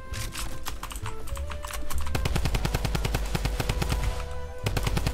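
Rapid automatic gunfire in the Fortnite video game, long bursts of sharp repeated shots that grow denser and louder midway, with a brief pause near the end before firing resumes.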